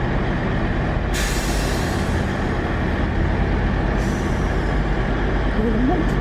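A train at Basingstoke railway station rumbles with a low steady roar, brief hissing bursts like air brakes, and a faint wheel squeal near the end, with speech-like sound mixed into the constant noise.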